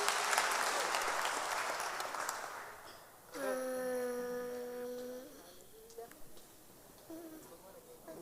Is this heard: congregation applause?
yes